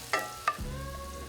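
Shallots frying in olive oil in a pan, a soft steady sizzle with two quick stirring clinks near the start, quiet and close.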